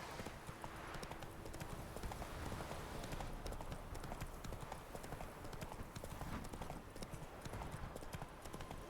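Roach, Geralt's horse in The Witcher 3, gallops with steady, dense hoof clatter throughout, mixed with continuous game ambience and scattered combat-like noises.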